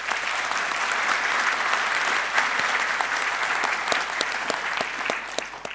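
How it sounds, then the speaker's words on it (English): A closing ceremony audience at the Wanderers Club applauds the venue with dense, sustained clapping throughout, a few sharper individual claps standing out near the end. "I want you to please applaud"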